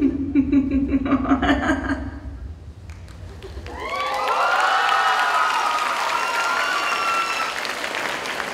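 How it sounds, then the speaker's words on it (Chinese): Audience at a university dance showcase breaking into warm applause with scattered cheers and chuckles after a performance, the clapping swelling and holding steady as the music fades out beneath it. "谢谢，热情的掌声"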